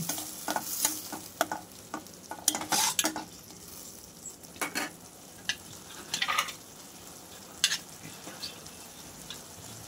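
Mushroom curry with chili powder is stirred in a pan, a spoon clinking and scraping in irregular bursts over a soft, low frying sizzle, fairly quiet and without speech.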